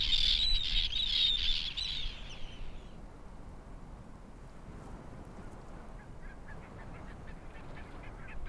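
Young barnacle geese honk in a short, busy chorus at the start, then fade to quiet outdoor ambience in Iceland with faint scattered calls in the distance.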